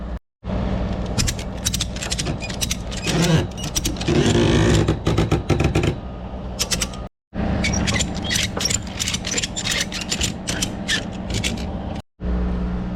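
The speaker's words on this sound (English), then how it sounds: "just need to attach the ratchet straps. It's got to tighten it as much as it will go." Ratchet straps are tightened on a truck load, giving continuous rapid mechanical clicking and ratcheting, loud and close, in long runs broken by two brief pauses, with no talk.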